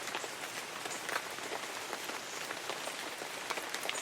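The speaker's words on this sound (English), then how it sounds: "The rain kept falling." Steady rain pours down, a dense continuous hiss of drops pattering on surfaces. It stays even and moderately loud throughout, with no voices.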